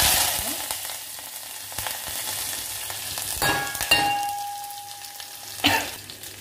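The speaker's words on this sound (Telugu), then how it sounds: "పోపు అయితే వేగిపోయింది కదా" Hot oil sizzles steadily as spices fry, with a couple of sharper metallic clinks and a brief tonal ring partway through; no voices.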